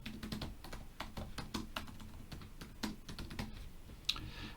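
Quick, steady keystrokes tap on a computer keyboard, a close run of light clicks with a faint underlying hum and no talking.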